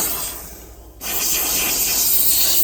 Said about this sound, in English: trying to get into all the cracks to steam and sanitize the entire place.